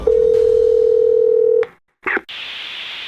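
A steady telephone dial tone hums for about a second and a half, then cuts out into brief silence, a short burst of line noise and a hissing connection.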